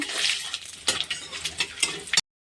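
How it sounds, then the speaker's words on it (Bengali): Whole spices for a mutton dish, bay leaf, dried red chilli, cumin, cinnamon, mace and a large cardamom, frying in oil; light crackling sizzle with several sharp clinks of a spoon against the pan, stopping abruptly. "তেজপাতা শুকনো লঙ্কা জিরে আস্ত জিরে দারচিনি জৈত্রী একটা বড় এলাচ সব দিয়ে দিয়েছি মশলাগুলো দিয়ে একটু ভালো করে ভেজে নেব"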